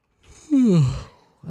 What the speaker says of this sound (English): I'm sorry for yawning that openly and loudly